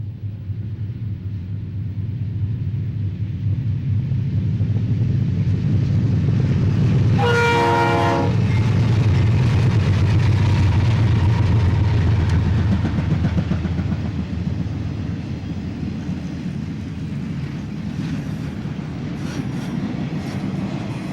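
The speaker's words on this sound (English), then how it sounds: "an eastbound intermodal hotshot charges through Berea" An eastbound intermodal freight train roars past at Berea, with a steady heavy rumble and rail clatter throughout and a short, loud horn blast partway through, close by.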